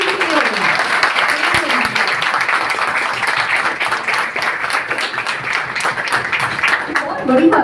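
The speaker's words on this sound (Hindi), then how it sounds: "एक बार जोरदार ताली" A live audience at a motivational talk bursts into loud, sustained applause for the full length, dense clapping with brief voices near the start and end.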